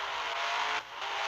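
Racing car engine in a video game, a steady whirring drone that dips briefly near the end before resuming, with no talk over it.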